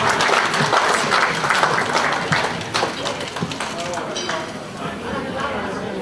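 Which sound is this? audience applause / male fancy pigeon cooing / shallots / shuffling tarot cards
audience applause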